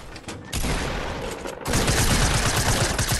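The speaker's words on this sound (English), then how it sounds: "They're shooting each other foolishly." Dense, continuous bursts of automatic gunfire from a Fortnite match crackle loudly and close, swelling into heavier sustained fire partway through, with no talk over it.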